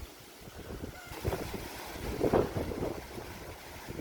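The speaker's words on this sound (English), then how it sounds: "See, you hear that wind?" Faint wind blows outdoors in a garden hit by bad weather, a soft, steady rush that swells in gentle gusts, with no voices.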